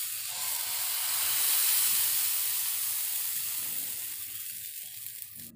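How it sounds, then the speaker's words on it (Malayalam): Batter ladled onto a hot pan greased with coconut oil sizzles in a steady, close hiss that swells and then gradually eases, with no talking. "ഇനി നമുക്ക് ഓരോ തവി മാവ് കോരി ഒഴിച്ചു കൊടുക്കാം"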